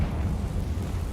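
A Confringo fire spell from Hogwarts Legacy goes off as a short, rumbling blast with a deep, boomy body that fills the whole moment, heard alone without speech.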